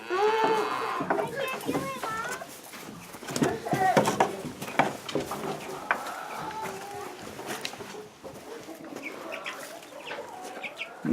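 Meat chickens cluck and chatter nearby in a busy, uneven stream of short calls, with some soft talking mixed in.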